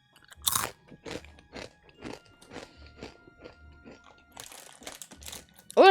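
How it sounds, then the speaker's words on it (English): Close, loud crunching of dry crunchy snacks eaten without chamoy, about a dozen sharp bites and chews in an irregular rhythm with brief pauses between them. "All I have is crunchy snack."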